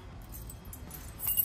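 Keys jangle faintly as they go into the ignition of a Jeep CJ7, a brief soft metallic rattle that builds slightly toward the end over a quiet background.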